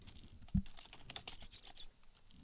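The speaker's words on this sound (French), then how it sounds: "le clavier là? Ça écrit des messages. Tu l'entends?" Computer keyboard typing heard close up in a quiet room: a single thud, then a quick burst of crisp, clicky keystrokes lasting under a second.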